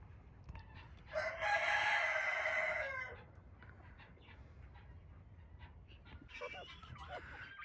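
A rooster crows loudly and close by in one long call, with quieter crowing and farmyard chatter from other birds before and after it.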